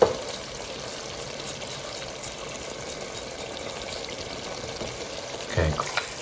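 A steady sizzle and crackle of spices stir-frying on high heat in hot oil for a lamb and potato curry runs throughout, with a brief clatter near the end.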